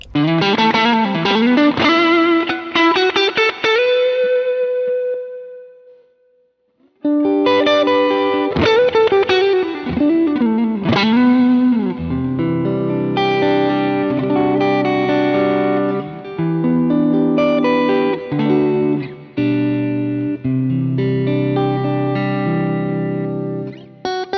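An electric guitar runs through an original Ibanez TS808 Tube Screamer overdrive. A loud, driven lead line of bent, sustained notes fades out, then after a short gap comes a longer passage of crunchy riffs and chords, close and unaccompanied.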